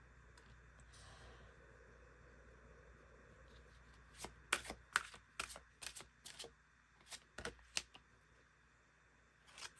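Tarot cards being shuffled, a soft rustle at first followed by a quick run of crisp card riffles and slaps, close and fairly quiet, with no talking.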